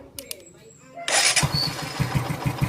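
A Bajaj CT125 motorcycle engine, its starter relay just repaired, cranks and catches about a second in, then settles into a loud, close, steady putter with rhythmic pulses, briefly preceded by clicks and talk.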